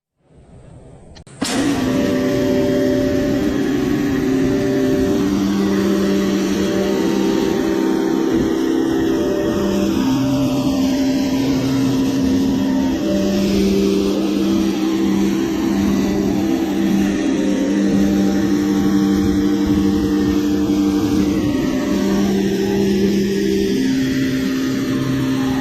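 After a moment of quiet, a pressure washer bursts on and runs continuously, its loud steady motor drone and hiss of spray persisting while rinsing snow foam off a car.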